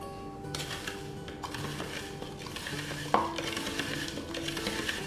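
A spoon stirs melted butter into finely ground biscuit crumbs in a bowl, giving soft, continuous scraping and gritty mixing sounds with a single sharper clink partway through, fairly quiet.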